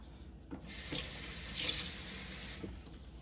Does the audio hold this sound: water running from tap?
yes